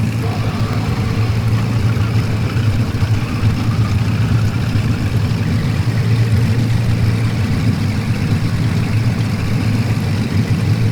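Twin piston engines of a Cessna 310 idle at about 1,000 RPM in a flight simulator, giving a steady, continuous low drone with an even rumble throughout and no talking.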